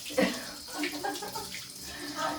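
Water sprays from a bath nozzle as a dog is rinsed in a tub, a steady splashing wash running throughout with brief louder bursts.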